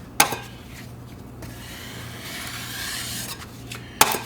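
A taping knife scrapes along a wet inside drywall corner, wiping joint compound over paper tape in a continuous rasp, with sharp taps at the start and end, close and moderately loud.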